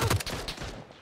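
Gunfire in a PUBG match: a couple of sharp close shots at the start, then a dense run of further reports and battle noise for about a second, with no voices over it.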